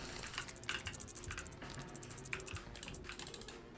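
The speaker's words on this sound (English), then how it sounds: "I've been holding Q on my keyboard" Keys clatter on a computer keyboard during a Jazzpunk speedrun, with rapid, irregular tapping and clicking that runs continuously at close range, no voices.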